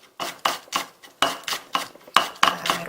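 A knife cuts spring onions into rounds on a cutting board in a steady run of about ten crisp, evenly spaced chops, close and clear with no talk.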